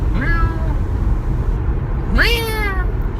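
A cat lets out two drawn-out, rising meows, one short and one longer and louder, over a low steady background hum inside a car.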